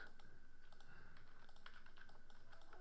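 Computer keys clatter during graphic design work as shortcut combinations are pressed, a quick run of light, crisp taps in a regular rhythm, close and fairly quiet.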